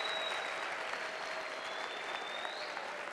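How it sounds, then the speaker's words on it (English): School assembly audience at Eastside High School applauding a student, a steady dense wash of many hands clapping at moderate distance, even and sustained throughout with no voices on top. "a big round of applause to an Eastside High School Raider"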